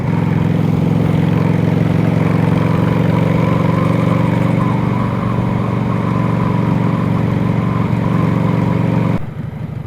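A Harley-Davidson Sportster bobber with a carburetor problem runs at a loud, steady idle, its rough low engine throb close by. It cuts off abruptly near the end, with no talk.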